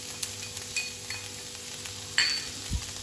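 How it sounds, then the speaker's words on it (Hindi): Fried potatoes and spices, including red chilli and turmeric, stirred in a pan for poha, with a soft steady sizzle and a few scraping, clinking strokes of a spoon against the pan, fairly quiet and with no talking. "अब इसे अच्छे से मिक्स कर लें।"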